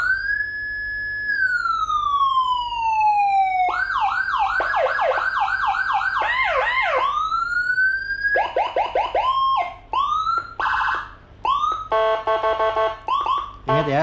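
Whelen 60-watt siren module played through a speaker, cycling through tones: a long rising and falling wail, then rapid yelping sweeps, choppy pulses and a fast hi-lo warble, loud and close over a low steady hum.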